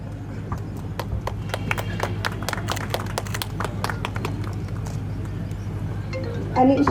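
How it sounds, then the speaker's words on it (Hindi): Children and guests clap in a school pandal at a state-level inclusion festival for children with special needs, a steady run of scattered claps over a low hum, with a brief louder burst at the end. "तालियों की गड़गड़ाहट गूंजती रहनी चाहिए, पूरा पंडाल गूंजना चाहिए"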